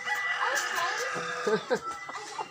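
A chicken clucks repeatedly up close, its short rising and falling calls coming in an uneven rhythm.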